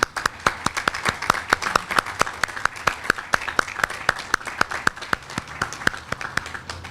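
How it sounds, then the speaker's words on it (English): A crowd at the 2014 City of Suffolk National Night Out kickoff applauds its public safety officers, steady clapping from many hands held at moderate, even loudness for about seven seconds with no talk over it. "we need to give them a round of applause"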